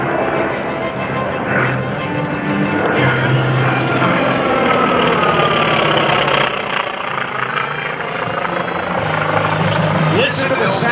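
A Curtiss SB2C Helldiver, a WWII propeller dive bomber, drones loudly and steadily as it passes at an airshow, with a rough, throaty roar that holds throughout with little gap.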